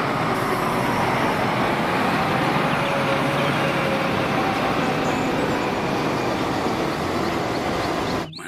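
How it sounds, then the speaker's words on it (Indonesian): Heavy roadway traffic rumbles past with a cement mixer truck among the vehicles, a loud, steady engine and tyre roar that holds throughout and cuts off abruptly at the end. "Wah, ada mobil truk molen."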